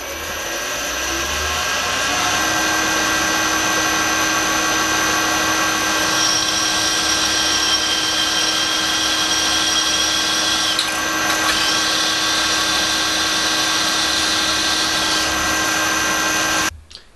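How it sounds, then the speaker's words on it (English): Power drill boring 5mm holes through metal sled rails, a steady loud whining motor with a high-pitched tone running continuously for about fifteen seconds, then stopping. "These were then drilled through 5mm."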